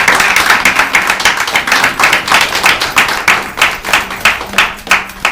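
Loud, close clapping from an audience after a public Spiritist lecture on depression. Many hands beat in a fast, even rhythm that holds steady throughout.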